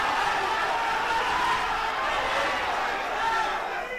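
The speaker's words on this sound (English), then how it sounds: "The crowd loving it live here out of Tap Out venue" A steady roar from a live crowd at a sold-out Tap Out fight venue, a broad continuous wash of cheering that holds at an even level for a few seconds and sits close and loud.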